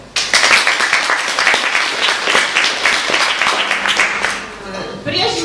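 Audience applause at a motivational seminar in Svyatogorsk, loud sustained clapping that starts abruptly and carries on steadily, with a voice cutting in near the end.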